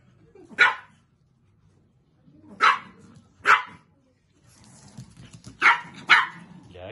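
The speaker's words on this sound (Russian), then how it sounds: "Ляся, Ляся, не гав." A small chihuahua female in heat barks close by in sharp, separate yaps, six in all, coming singly and in pairs with pauses between them over a quiet room background.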